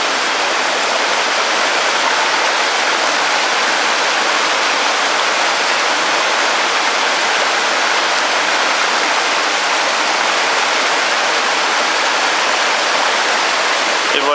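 A clear mountain stream rushes steadily over stones, a loud, continuous broadband wash of water with no break, close by and alone.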